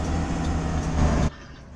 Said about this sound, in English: This bus does sound like a Cummins though.